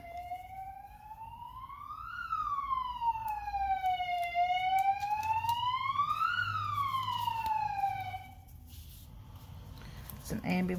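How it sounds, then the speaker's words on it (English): Ambulance siren wailing as it passes, a clear rising and falling tone sweeping up and down twice, fairly loud and steady for several seconds before fading away. "It's an ambulance."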